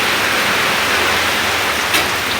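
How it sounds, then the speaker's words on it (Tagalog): Heavy rain pours down in a dense, steady hiss, loud and continuous with no pauses. "Perding lakasan ng ulan."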